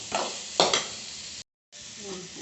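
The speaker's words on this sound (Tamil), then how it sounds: "இன்னும் கொஞ்சம் நல்லா தக்காளி வதங்கணும்" Tomatoes sautéing in a kadai for spicy Andhra-style chutney, with a steady sizzle and a couple of louder stirring scrapes, a short silent gap, then the frying resumes.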